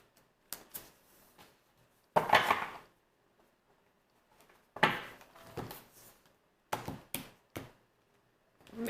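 Tarot cards being shuffled by hand, heard as soft, brief riffling bursts and light taps separated by quiet gaps, close and alone with no voices.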